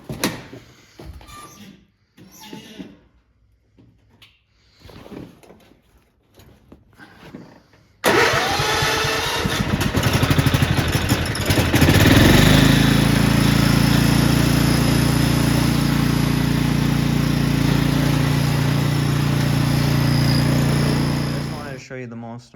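Voices talk first, then a Craftsman lawn mower engine fires abruptly and keeps running loud and steady close by for about fourteen seconds before it cuts off.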